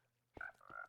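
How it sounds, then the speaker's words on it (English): A frog in Minecraft gives a single short croak, followed by a quick second call, heard alone against a quiet background. "There's a frog named Athena."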